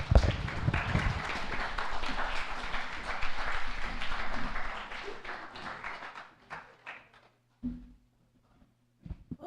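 An audience at a school morning assembly claps for a speaker, a loud steady round of applause that fades out after about six seconds, leaving a few scattered claps and faint bumps.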